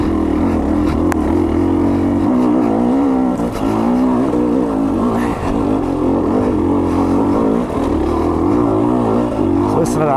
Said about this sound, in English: Listen to that bike just lug there in second gear.